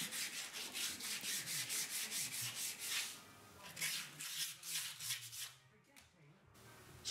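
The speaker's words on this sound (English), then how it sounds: "Now I've got a stiff wire brush out to get rid of some of the rust from the vulcanizing process." A stiff wire brush scrubs vulcanizing rust off the steel rear wheel of a Burrell traction engine model, giving rapid, steady rasping strokes up close that thin out and pause near the end.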